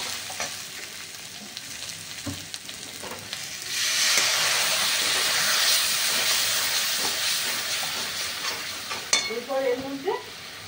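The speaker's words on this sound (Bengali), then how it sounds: "আর এই লঙ্কার গুঁড়ো দিয়ে সামান্য একটু জল দিয়ে দেবো।" Chili powder, turmeric and a splash of water hitting a hot pan for Bengali fish biryani, a loud hissing sizzle surging midway and then settling, with light clinks of stirring.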